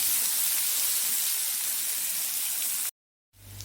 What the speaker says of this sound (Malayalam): നമുക്ക് ഈ സവോള അരിഞ്ഞത്, പച്ചമുളക്, ഇഞ്ചി ഇതൊന്ന് വഴറ്റിയെടുക്കാം